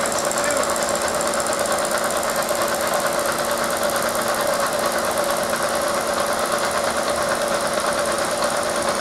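Bridgeport milling machine with its cutter head milling a thin plastic workpiece, giving a steady, dense mechanical whir with a rapid chattering texture that runs unbroken and fairly loud from start to finish.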